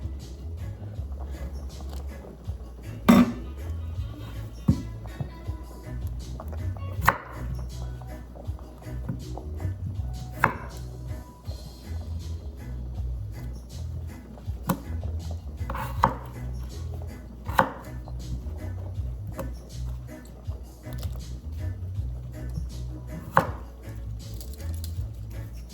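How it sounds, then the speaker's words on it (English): A potato is cut into chunks with a knife on a cutting board in a home kitchen, with sharp chops at irregular intervals, some louder than others, over a low background hum. "So I just cut my potato in chunks."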